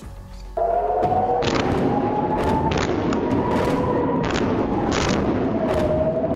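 Repeated heavy booms of large-calibre artillery shells, several blasts in irregular succession over a constant roaring background, with an air-raid siren wavering throughout, during a Hezbollah attack on northern Israel.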